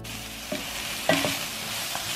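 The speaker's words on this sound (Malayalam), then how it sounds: "പനീർ ചേർത്ത് ഒരു 2 മിനിറ്റ് ഇതുപോലെ ഒന്ന് ഇളക്കി കൊടുക്കുന്നു." Paneer stirred in a hot pan for vegetable paneer kurma, a low steady sizzle with a few scraping and knocking strokes of a spoon against the pan, close and fairly quiet.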